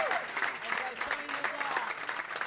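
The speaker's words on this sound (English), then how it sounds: "So big round of applause" Spectators at a senior bowling championship medal round applaud in a steady, moderately loud patter of clapping, with a voice speaking over it throughout.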